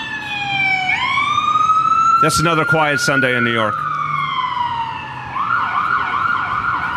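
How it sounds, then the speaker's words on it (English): Ambulance siren on a New York City street, a loud steady wail rising and holding, interrupted midway by someone speaking over it, then continuing with a shifting yelp pattern as it passes nearby. "Let me let the ambulance go through."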